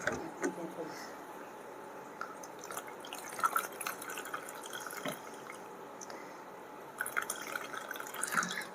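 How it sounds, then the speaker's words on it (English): Normal and hot water poured together into a container to make warm water, a steady splashing trickle with scattered drips that stays at a moderate level throughout. "I am putting some normal water and hot water."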